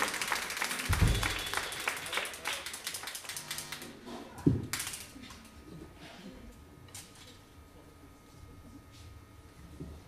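Audience clapping at a live jazz concert, a burst of applause in the opening seconds fading into scattered claps and a quieter room.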